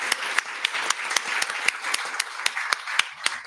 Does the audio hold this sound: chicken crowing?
no